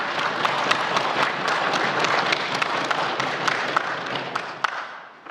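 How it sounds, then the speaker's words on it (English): Audience applause in a legislative assembly chamber, a dense round of clapping that holds steady and then tapers off near the end, with no speech over it. "please give them a round of applause"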